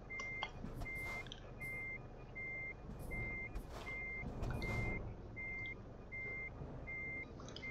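Truck reversing in Euro Truck Simulator 2, a steady run of evenly spaced electronic beeps over a low engine rumble, with a few brief hissing and clanking bursts along the way.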